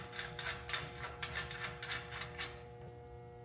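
A bolt being threaded in with a 6mm round-headed Allen key, giving faint, close ratcheting clicks in a quick irregular rhythm that fade toward the end.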